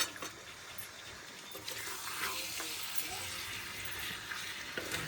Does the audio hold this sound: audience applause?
no